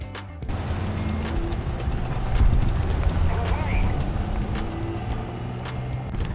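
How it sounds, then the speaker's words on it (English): An enemy tank engine in War Thunder rumbles low and continuous from behind a building, swelling slightly midway, while sharp clicks punctuate it and a voice talks over the top. "you can hear the enemy engine from behind the building as well"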